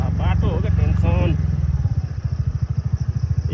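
A motorcycle engine on a rough mountain road chugs in a close, rapid, pulsing rhythm, with someone talking over it at first before the engine thumps on alone.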